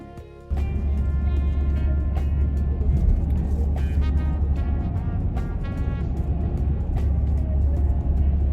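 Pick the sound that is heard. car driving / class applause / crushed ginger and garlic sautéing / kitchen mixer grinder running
car driving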